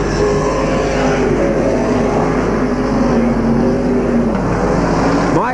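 Race leader's black car on a 1981 speedway track roaring past close by, a loud continuous engine drone that swells and then drops away sharply as it goes by.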